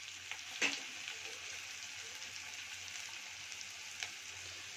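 Onions frying in a pan until lightly browned, a soft even sizzle at low level with a couple of brief clicks from a stirring spoon.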